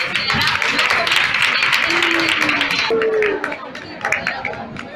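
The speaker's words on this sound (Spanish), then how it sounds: "un aplauso para todas vosotras." Applause from a crowd, dense clapping mixed with cheering and chatter, steady and loud throughout.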